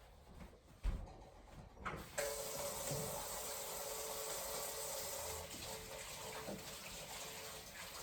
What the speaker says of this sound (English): First things first, I'm going to wash my hands.